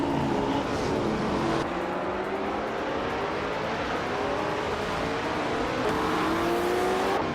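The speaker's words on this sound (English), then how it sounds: "Thomas Moran has shot off the line to take the lead." Race cars led by a classic 1967 Ferrari 330 P4 in a racing game, engines loudly accelerating off the start line, rising tones climbing steadily together in a dense close roar.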